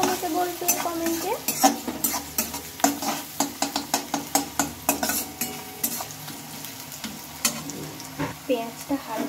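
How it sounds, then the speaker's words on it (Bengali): Onions fry and sizzle in a pan while a spatula stirs them in quick, regular scraping strokes, close and rhythmic over a constant hiss of hot oil. "পেঁয়াজটা হালকা ভাজা হয়ে এসেছে"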